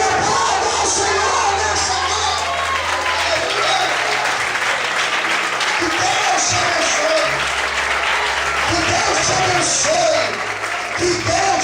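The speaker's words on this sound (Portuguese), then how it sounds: "Se você crê, glorifique, exalte e aplauda ao Senhor." A church congregation applauds and cheers in praise, loud sustained clapping with shouts and crowd voices mixed in, continuing steadily from start to finish.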